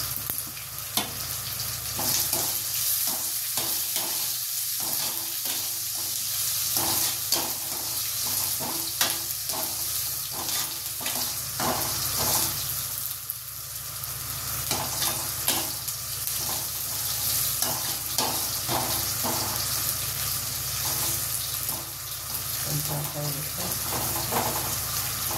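Mustard seeds, cumin and onions fry in oil for an okra fry, giving a dense, continuous sizzle with crackling pops and occasional stirring throughout, close and steady.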